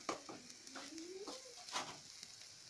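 Garlic and ras el hanout spices frying in oil in a pan for a traditional chard dish, a soft crackling sizzle with light scraping stir strokes and a few sharp utensil taps, faint and close, no voices.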